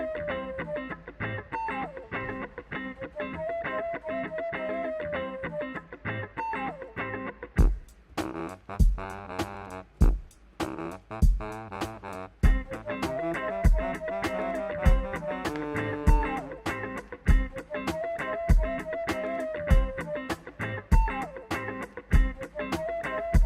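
Music track playing back with added reverb and automated effects, a sustained distorted synth layer giving way to a punchy, steadily pulsing beat with strong low thumps, loud and uninterrupted by talk.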